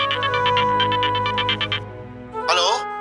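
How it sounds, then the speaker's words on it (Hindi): Telephone ringing in a Bhojpuri TV drama scene, a steady repeating electronic ring of about a dozen short pulses, then a brief rising tone as it stops. "महाराज जी का फोन।"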